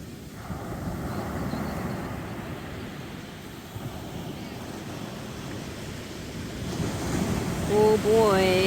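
Ocean waves roll and crash on Montara State Beach near Half Moon Bay, a continuous broad roar with wind buffeting the microphone, swelling louder toward the end.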